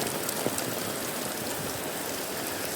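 Heavy rain pours steadily onto a flooded street in Madrid, a dense, continuous hiss of drops at close range with no voices.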